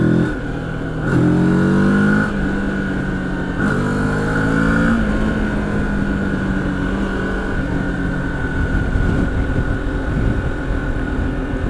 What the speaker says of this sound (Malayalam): എക്സോസ്റ്റ് നോട്ടൊന്ന് കേൾപ്പിച്ചുതരാം